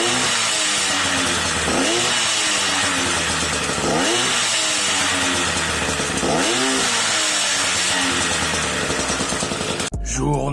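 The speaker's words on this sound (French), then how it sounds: "je vais vous faire un petit démarrage donc avec le Ninja pour écouter le son" A Kawasaki Ninja F50 engine is started and revved repeatedly, loud buzzing two-stroke revs climbing and falling in bursts roughly every two seconds, close up, ending abruptly.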